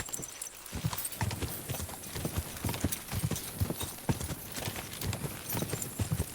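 Horse hooves clip-clop steadily in Kingdom Come Deliverance 2, a regular rhythmic trot of hoofbeats on a path, loud and close, with game ambience beneath and no talk.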